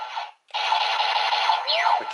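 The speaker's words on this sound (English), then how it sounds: "when you press the trigger, you just get generic shooting sounds" Generic electronic shooting effect from a DX VS Changer toy (Patoren 1gou set) trigger, heard as a dense buzzing synthetic burst, a short gap, then a longer sustained zapping tone with a falling sweep near the end, close and alone.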